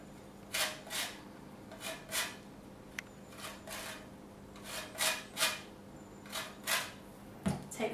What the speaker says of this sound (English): take one of your lemons and start grating the zest